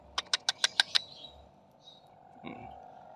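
A quick run of six bright chirps from a canary in an aviary, then a couple of fainter calls against a quiet background.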